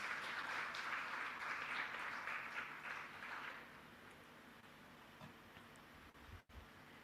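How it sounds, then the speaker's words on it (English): Audience applause for Anil Kapoor at an awards ceremony, a faint, distant wash of clapping that swells for a few seconds and then tapers off into room noise. "a big round of applause, ladies and gentlemen, for Anil Kapoor in the house"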